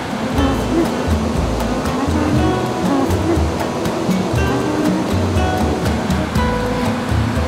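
A large waterfall, heard from a bridge, sends out a continuous, loud, rushing roar of falling water that stays steady and unbroken throughout.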